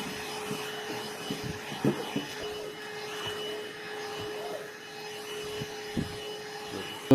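Kärcher VC 4 cordless stick vacuum cleaner running in a home, a steady mid-level motor hum with a constant whine, plus occasional soft bumps and brush knocks as it moves.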